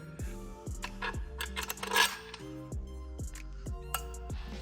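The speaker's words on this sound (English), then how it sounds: "I hear a click and then I thread this free" Small repeated metallic clicks and ticks while a clutch bolt is threaded in on a triple-disc competition clutch for a 1200hp Subaru STI, a rhythmic series of close, light taps with faint scraping between them.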